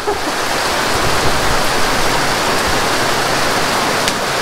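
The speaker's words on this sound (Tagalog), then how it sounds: "Ang lakas ng ulan." Heavy rain pours down at Lake Sebu in South Cotabato, a dense, steady hiss of downpour with no pauses, close and loud, with occasional faint drips standing out above the wash.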